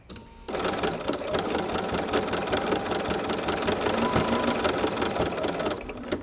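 A sewing machine stitches ribbons onto a tuxedo pillow, ruffling the bottom ribbon: a steady, rapid mechanical clatter of needle strokes that starts abruptly and runs continuously, close and fairly loud, with no talking.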